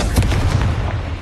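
A Confringo fire spell from Hogwarts Legacy detonates as a loud, deep boom that fills the whole short moment, with no voices.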